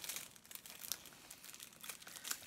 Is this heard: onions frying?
no